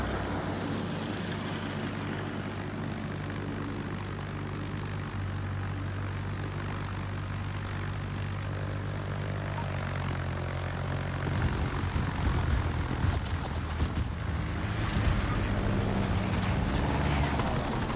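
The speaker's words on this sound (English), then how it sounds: "So we're attacked by fighters at high altitude." Fighter aircraft attacking at high altitude in the naval combat game World of Warships, a steady droning propeller engine roar that swells louder in the second half with no talking.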